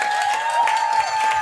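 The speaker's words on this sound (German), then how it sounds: "Mal Applaus für die beiden." Audience applause at a live German stand-up comedy show, steady dense clapping filling the whole moment at close range, with a high tonal line running through it.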